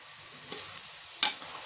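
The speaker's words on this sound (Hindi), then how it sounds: "दूध को अच्छी तरह से इसके अंदर मिक्स करेंगे, बुनाई करते रहेंगे इसकी।" Milk powder being stirred into carrot halwa in a pan, a soft steady sizzle underneath with two brief scraping strokes of the spoon, the second one louder.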